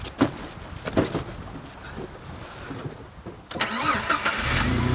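A car engine cranks and catches around the middle, then settles into a steady running rumble, preceded by some clunks and rustling.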